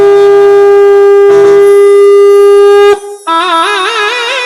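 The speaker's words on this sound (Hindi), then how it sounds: "जोर से श्रृंगी नाद किया।" A shringi horn blown loudly in a Shiva wedding story sounds as a loud, sustained, siren-like blast on one steady pitch. It breaks off, then returns as a wavering, warbling call.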